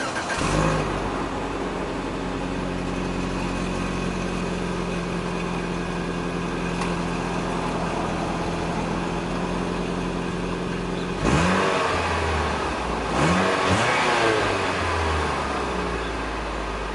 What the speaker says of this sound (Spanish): lo único que queda es enseñarles cómo escucha cuando prendemos el carro